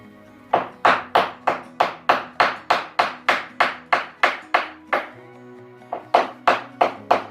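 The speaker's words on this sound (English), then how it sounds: "So all I do is take my hammer and I just bump that back." A hammer taps wood in a steady rhythm, about fifteen firm knocks, bumping a glued sidewall flush, then a short pause and a few more blows, close and loud.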